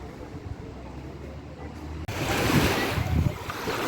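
Black Sea surf on a beach in Odesa, with quieter ambience suddenly giving way to a louder, continuous wash of breaking waves, accompanied by gusty wind buffeting the microphone.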